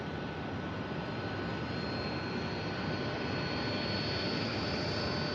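Jet airliners taxiing at Tampa International Airport give a steady, distant roar of turbine engines with a thin high whine, continuous and moderately loud with no talking.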